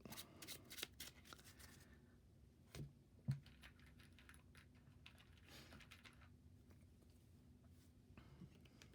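A deck of cards is shuffled during a Marvel Champions tabletop game, giving soft riffling and tapping clicks close by, quiet and intermittent with a few sharper knocks.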